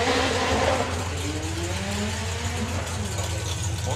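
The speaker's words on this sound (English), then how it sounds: "Craig Evans with the Raggy Conversions Corsa" Drag racing Corsa from Raggy Conversions at a doorslammer event, a loud engine roar with a broad rumbling drone that holds steady through the run, with an announcer talking over it.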